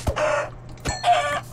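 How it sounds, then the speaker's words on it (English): Chicken clucks in the video game Minecraft, two short, close bursts of squawking clucks separated by a brief pause, with no talk over them. "this chicken is bothering me"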